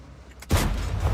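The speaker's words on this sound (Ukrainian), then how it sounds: "По мені ще хтось стріляв" After a quiet moment, a single loud video game gunshot booms and rumbles on briefly.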